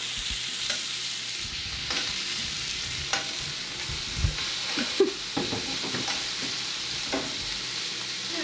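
A steak fries in a hot pan while being basted with butter. A loud, constant sizzle runs throughout, with spoon scrapes and metallic clinks against the pan scattered through it.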